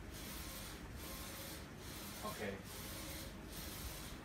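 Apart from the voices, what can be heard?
DTG t-shirt printer printing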